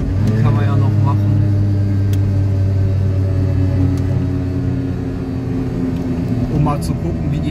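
Piaggio Ape 50 three-wheeler on a damp, cold night drive, its small engine giving a steady low drone with a slight dip in level partway through, and a voice heard briefly over it.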